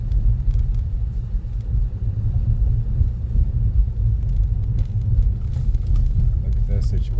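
A car driving on snowy roads after a blizzard in St. Louis, heard from inside as a low, steady engine and road rumble.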